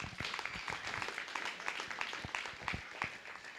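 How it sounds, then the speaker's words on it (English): Audience at a 4-H/FFA swine show at the Butler County Fair applauding steadily, a faint, even patter of many hands clapping throughout. "Let's give them a big round of applause."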